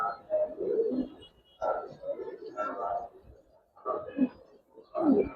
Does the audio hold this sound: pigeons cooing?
yes